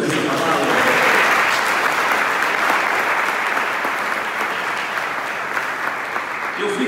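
A church congregation breaks into sustained applause, loud and dense for the full stretch, with faint voices mixed into the clapping.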